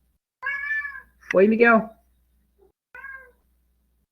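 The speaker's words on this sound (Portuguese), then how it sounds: "Se vocês ouvirem os miados, é o meu gato pulando na porta." A pet cat meows repeatedly from nearby while jumping at a door: a drawn-out meow, a louder, longer cry, then a short final one, with a person's brief question in between.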